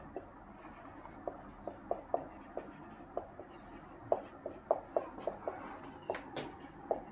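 Chalk tapping and scratching as math is written on a board, with a quick series of light, irregular taps and strokes, faint and with no talking.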